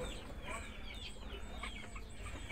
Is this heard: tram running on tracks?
no